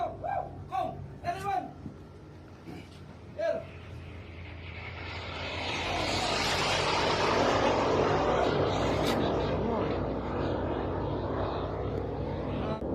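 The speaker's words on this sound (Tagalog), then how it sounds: "nag-record ng mga Tomahawk na lumilipad sa ibabaw papunta sa kanilang mga target sa Iran" Tomahawk cruise missiles fly overhead, heard from a merchant ship at sea: a few brief voices at first, then a broad jet-like roar swells in and stays loud as it passes over.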